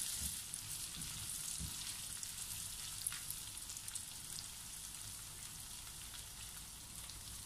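Browned pork, slightly stuck to a kawali, fries and gets stirred. A faint, steady crackling sizzle with light scattered pops and a few soft stirring knocks.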